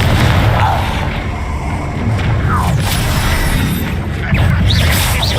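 A Confringo explosive spell blasts in Hogwarts Legacy amid a thick, loud wash of combat booms, rumbles and whooshing magic effects that fill the whole stretch.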